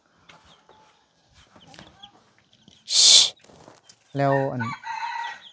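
Chickens around a rural home call out, with a sharp loud squawk and then a clucking, crowing burst, heard close amid faint household sounds and brief speech.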